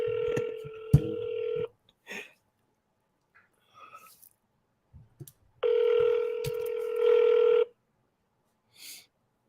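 A telephone dials out while calling sellers: two long, steady electronic tones, each about two seconds, are separated by a quiet gap with a few short beeps and clicks, and a brief chirp follows near the end.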